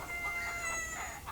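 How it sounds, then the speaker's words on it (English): A rooster crows briefly and close by, a steady harmonic call lasting about a second, from a backyard flock whose roosters are Spangled Hamburg, Barred Rock and Rhode Island Red chickens. "the roosters right now are the Spangled Hamburg, the Barred Rock, and the Rhode Island Red"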